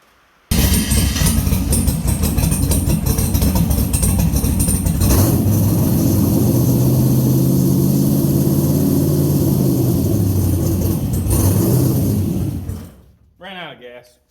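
A small gas engine, suffering a fault with loose wiring, cranks and catches, then runs with a loud steady drone for about twelve seconds before dying out, followed by brief talking.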